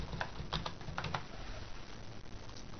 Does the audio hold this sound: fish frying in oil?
no